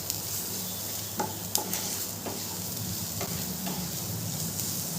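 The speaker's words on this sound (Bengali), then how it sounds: "মশলাটা দিয়েও খুব ভালো করে কষানো হয়ে গেছে।" Spice masala with chopped green chilies sizzling and frying in a pan for Bengali aloo chop, steady close sizzle with a few sharp scraping stirs of a spoon, no voices.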